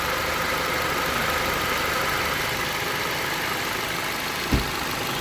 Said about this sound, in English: Compressor is on. It cycles on and off sometimes